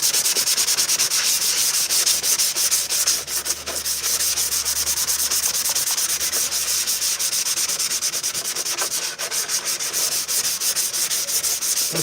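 Steady, close-up sanding on Purge Trooper armor, a continuous dense rasp that runs unbroken with only slight swells in intensity and no voices.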